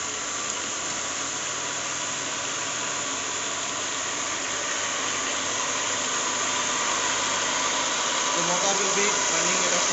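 A DC series motor on a lab test bench runs at high speed under light load, giving a loud, steady broadband whir and hum that continues unbroken, with a voice speaking faintly over it.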